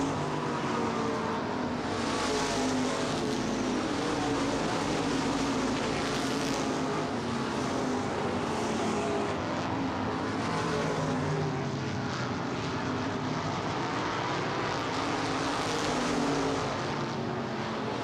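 Modified race cars in a 2015 ICAR Top Speed Modifieds race at Baer Field Speedway, their engines giving a steady, loud roar as the pack runs down the backstretch, rising and falling as the cars pass, with no talk over it.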